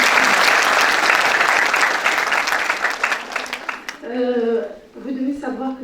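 An audience at a French-language conference on preschool education claps loudly and densely for several seconds, then the applause thins and a voice begins speaking over its tail.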